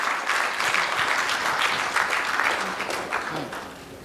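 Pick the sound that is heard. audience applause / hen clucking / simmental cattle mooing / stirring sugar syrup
audience applause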